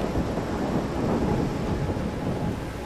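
Heavy rain and rumbling thunder in the video game Far Cry Primal form a dense, continuous roar of downpour with a low rolling rumble underneath, steady throughout and free of speech.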